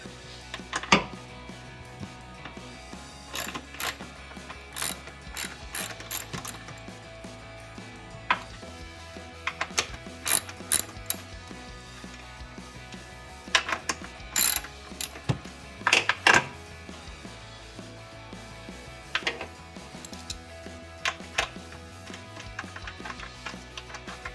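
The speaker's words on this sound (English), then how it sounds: "This is the 13mm bolt that I'm removing here." A ratchet wrench loosens a 13mm bolt on a 2015-2017 V6 Dodge Challenger, giving sharp metallic clicks in irregular bursts, close and fairly loud against a quiet background.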